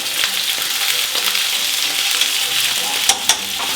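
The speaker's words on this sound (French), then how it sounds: "On va les faire saisir pour avoir une cuisson rosée." Meat searing in a hot pan with garlic butter and being turned over, a close, loud crackling sizzle with a few sharp clicks and spatters toward the end.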